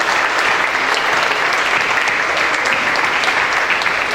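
A church congregation breaking into applause during a sermon, a loud, dense and sustained wash of clapping from many people filling the room without a break.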